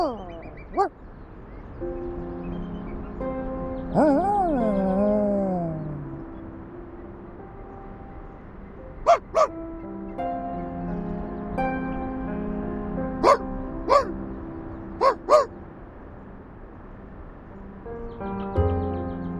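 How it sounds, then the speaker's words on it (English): A puppy in the video game Reverse: 1999 gives a series of yips and whimpering barks, some drawn out and wavering, then several short sharp ones, close and clear against quiet background music. "The puppy expresses his denial."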